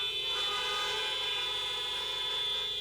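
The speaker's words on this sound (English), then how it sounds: "please honk your horn if you got a Hanukkah bag" Car horns honk at a drive-through Hanukkah event, a loud sustained blare held throughout without a break.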